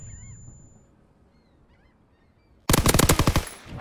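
Loud, rapid automatic gunfire bursts from a World War II shooter video game, a fast string of close shots cutting in sharply after quiet game ambience and lasting to the end.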